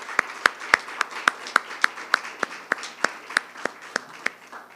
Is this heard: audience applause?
yes